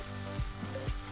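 Chicken breast hits a hot oiled pan and sizzles loudly and continuously, with a few soft shifting bumps underneath the steady frying hiss.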